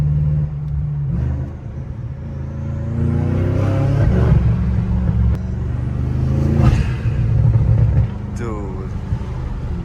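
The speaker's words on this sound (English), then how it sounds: "turbo spool in this car is dead ass crazy" An 800-horsepower turbocharged BMW M5 engine revving and accelerating up through the gears with a rising whine and turbo spool, loud and close from inside the cabin, with a voice speaking over it.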